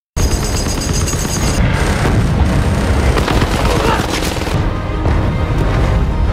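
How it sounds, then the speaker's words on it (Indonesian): A war film battle with US Air Force support striking Taliban fighters: dense, loud, continuous gunfire and booming blasts packed together, rattling bursts layered over heavy rumbling explosions for several seconds. "terjadi sebuah ledakan hebat dan rentetan tembakan yang mengarah ke pasukan Taliban"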